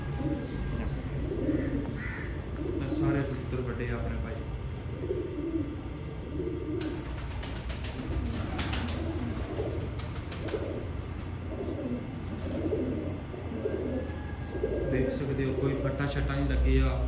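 Pigeons cooing in a loft room where millet is stored, soft repeated throaty calls close by, with crows cawing and a person talking throughout.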